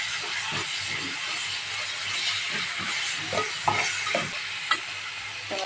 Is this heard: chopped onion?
yes